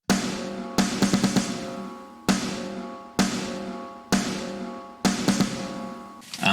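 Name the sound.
three metal snare drum samples played together, unprocessed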